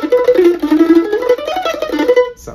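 A bouncy bluegrass lick in the Monroe style is played as a quick run of plucked notes, close and clear and alone, with the plucked tones climbing and dropping in a lively rhythm before stopping abruptly.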